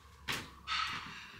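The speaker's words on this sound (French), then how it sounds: "Je crois que je vais fermer la porte." A door pushed shut at home while dishes are unloaded from a dishwasher nearby, giving two short, moderately loud thuds about half a second apart and a fainter knock near the end.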